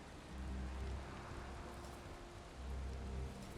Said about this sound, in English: Yeah, just in time for the storm.